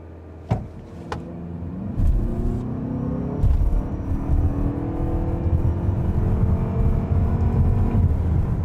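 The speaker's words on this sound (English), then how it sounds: "let's go ahead and test out the 0 to 60 really quick" Toyota RAV4 plug-in hybrid in sport mode launching from a brake-torque start and accelerating 0 to 60 mph, a few clunks, then a rising whirring drive and road rumble building steadily, heard from inside the car without talk.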